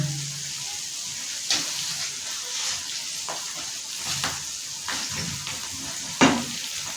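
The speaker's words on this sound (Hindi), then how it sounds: "हरी मिर्चें डाल के इनको मिक्स कर देते हैं साग में" Green chillies stirred into sarson ka saag frying in a pan, a steady sizzle with several soft stirring scrapes and clinks rising above it at intervals, close and fairly quiet.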